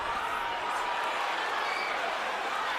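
Crowd of boxing fans in a Brooklyn arena, a steady far-off roar of cheering and excitement washing through the hall at even, moderate loudness.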